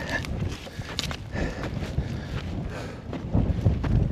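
Strong wind buffets the microphone on an exposed hilltop during a hike, a steady low rumble with gusty surges that swell louder toward the end, heard alone with no talk.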